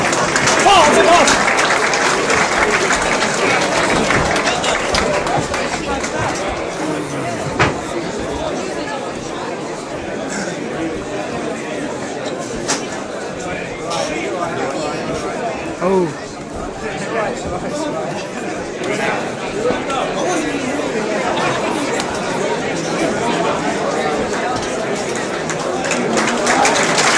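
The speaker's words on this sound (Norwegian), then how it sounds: "Keep the applause coming for our two fighters" Crowd applause and chatter for two fighters at an ECFF 18 fighting event in Norwich, a steady loud wash of clapping and voices lasting throughout, with a person talking over it.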